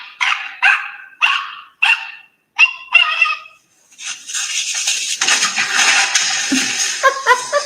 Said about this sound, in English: The dog literally put the other dog in the trash.